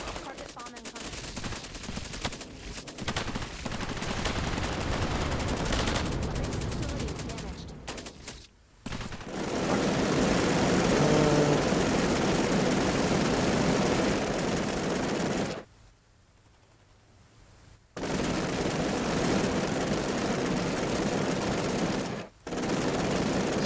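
Airstrike in the video game Cepheus Protocol: dense, sustained gunfire and explosive rumble with aircraft noise, loud and continuous apart from a couple of short silent gaps.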